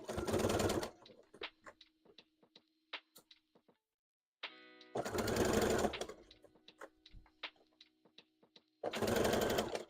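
An embroidery machine runs in loud, rapid bursts of needle stitching, with quieter scattered ticks and clicks between the bursts while it moves and repositions, all close by and without talk.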